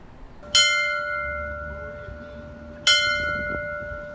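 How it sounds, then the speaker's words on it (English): Two separate strikes of a single bell at an addiction memorial vigil outside Cambridge City Hall, each a clear, resonant clang that rings out and slowly decays in a quiet outdoor setting. "A bell rings for every life lost"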